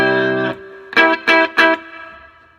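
A Rickenbacker 330 guitar through a Boss Katana 50 amp with reverb rings out with one sustained chord, then three short strummed chords in quick succession, fading into a short reverb tail.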